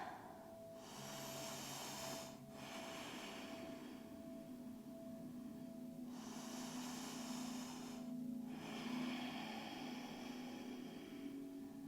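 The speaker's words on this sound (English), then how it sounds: "Take 3 deep breaths." Slow, deep breaths during a yoga hip stretch: long airy inhales and exhales alternate in broad swells, close and soft over a faint steady background hum, with no talking.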